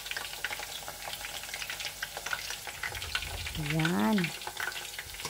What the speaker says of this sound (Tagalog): i-fry lang natin hanggat magiging crispy golden brown